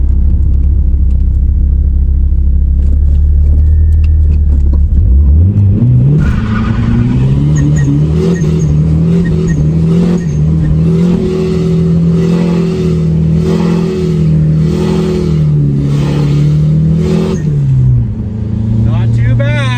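A boosted Ford Mustang Fox Body does a burnout, its engine idling low, then revving hard and holding a loud, roaring drone for about twelve seconds before easing off, with tire noise mixed in.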